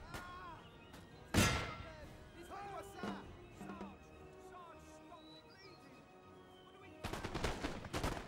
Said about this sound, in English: Okay, those guys were shooting up in the air.